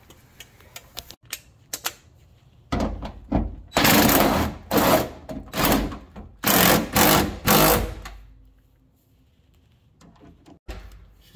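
Tightening nuts under a BMW E36 for a trailer hitch install: a string of sharp, rapid ratcheting bursts from a close tool, several short runs with brief pauses between, then quiet.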